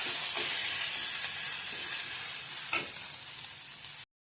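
Onion and tomato frying together in a pan for a Malvani prawn curry, a loud, dense sizzle with scraping stirs that ends abruptly, no talk.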